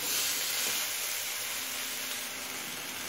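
Mixed vegetables frying with salt in a pan give off a steady, bright sizzle and hiss that holds constant throughout, close up, with no talking.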